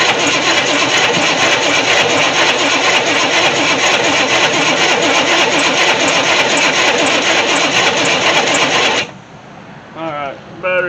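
A 1964 Chevy Impala SS convertible, left sitting for 35 years and likely flooded, cranks continuously with a loud, rapid, rhythmic starter whir for about nine seconds without catching, then stops as a voice speaks.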